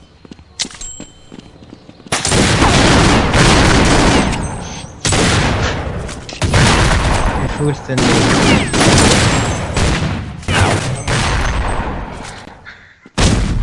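Counter Strike Nexon Zombie gunfire rattles in dense, sustained bursts of rapid shots, loud and continuous with brief gaps, while a voice speaks near the start.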